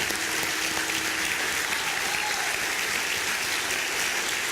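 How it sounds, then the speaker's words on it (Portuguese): A church congregation at an Assembleia de Deus Sunday school gathering claps steadily and loudly, a dense, continuous applause with no talk over it. "Vocês podem aplaudir a Deus pela vida do pastor Carlos."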